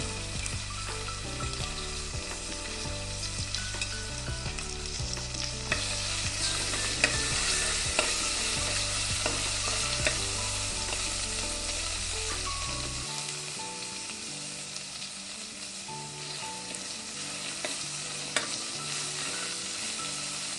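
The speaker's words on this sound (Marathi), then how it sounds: "तेल गरम झालंय. आता लसूण टाकूया." Steady, loud sizzling of garlic frying in hot oil in a pot, continuous throughout with occasional stirring scrapes and small pops, no voices.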